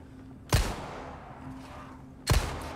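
Two loud, sharp gunshots about two seconds apart ring out in the Resident Evil 4 Remake video game, each with a short decaying tail over a low background hum.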